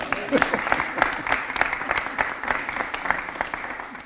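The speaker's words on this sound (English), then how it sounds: "And I think that is worthy of a round of applause" Crowd at a mayor's announcement in Richmond, Virginia breaks into a round of applause, with distinct sharp claps ringing out fairly close and loud while a voice carries on over them.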